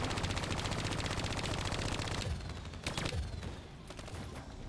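Rapid automatic gunfire in the Call of Duty Black Ops 3 campaign rattles in a dense continuous burst, then breaks into scattered individual shots and shorter volleys, loud and close with no speech.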